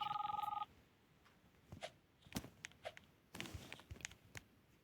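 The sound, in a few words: telephone ringing in a video game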